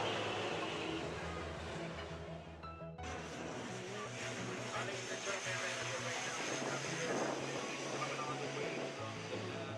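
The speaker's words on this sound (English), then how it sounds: "as my family is here watching airplanes land" Airplane landing over Maho Beach, St. Maarten, a steady loud engine roar that swells suddenly and holds, with a broad rumble under background voices of onlookers.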